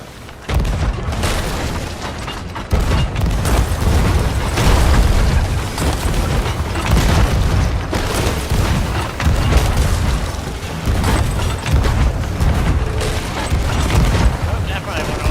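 Ship cannons fire from the port side at a galleon in the video game Sea of Thieves, a loud, nearly continuous volley of heavy booms with voices talking underneath.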